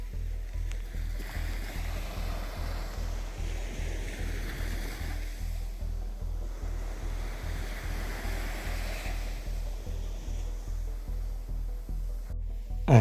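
Calm Mediterranean sea on a quiet sandy beach in the far northeast of Spain, small waves washing steadily onto the shore in a soft, continuous rhythm with a low rumble beneath, nobody speaking.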